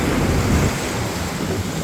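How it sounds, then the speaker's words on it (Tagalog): Strong waves at Diniwid Beach on Boracay in the habagat monsoon season make a loud, continuous roar of surf with a deep rumble, steady and close. "malakas yung alon, baka dalhin tayo"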